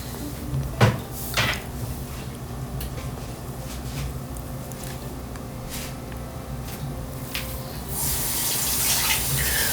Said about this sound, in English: Just putting that dispenser drawer back in